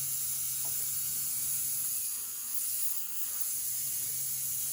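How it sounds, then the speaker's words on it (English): An old Athearn model train motor runs steadily with a continuous whirring, ticking mechanical drone, close and even throughout, with no voices. "motor seems to be running well. Has a good speed, low current draw"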